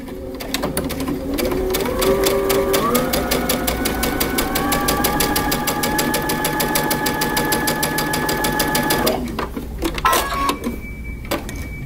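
A sewing machine stitches a 5/8-inch seam allowance around a tee shirt or vest, its motor whirring in one steady, close run of fast needle strokes before stopping, then a brief backstitch burst.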